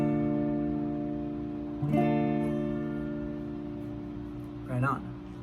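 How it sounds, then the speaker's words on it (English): A barre chord strummed downward on a guitar rings out with a sharp attack and a long sustained decay; a short bit of talk is heard near the end. "And if you strum down, you should get something that sounds like this."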